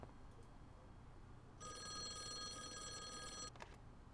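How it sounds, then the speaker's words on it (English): In the video game Call of the Elder Gods, a telephone rings with one continuous, faint electronic bell tone lasting about two seconds, followed by a brief clatter, with no talking. "Let me get the phone here."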